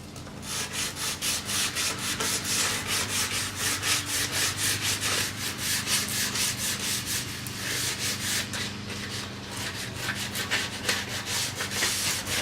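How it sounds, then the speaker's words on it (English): Wooden DVD cabinet parts being hand-sanded in a woodshop, steady rhythmic back-and-forth scratchy strokes repeating close up, with no talking. "we're sanded up"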